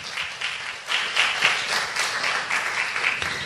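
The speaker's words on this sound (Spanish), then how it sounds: "Dele un aplauso al Señor," A church congregation at Ministerios Ebenezer in Boston breaks into continuous applause, a steady wash of many hands clapping together from across the room.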